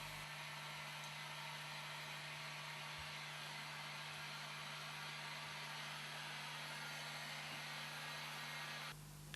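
Heat gun drying a fixative primer on leather, a loud, steady, close blowing whoosh with an even hum that runs throughout and shifts briefly at the end.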